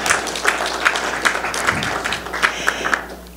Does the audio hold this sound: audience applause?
yes